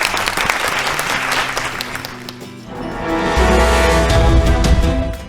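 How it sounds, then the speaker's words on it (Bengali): A studio audience claps loudly for Priyangee, a contestant on a family game show; the applause swells and holds steady over music. "জোরে হাততালি প্রিয়াঙ্গীকে"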